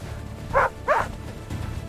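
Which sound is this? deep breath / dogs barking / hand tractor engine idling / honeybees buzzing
dogs barking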